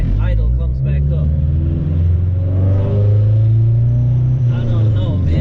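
A Honda Civic with a swapped B20 engine rumbles at low revs, heard from inside the car, its tone sagging and then rising again as the idle dips and recovers, with a voice talking over it.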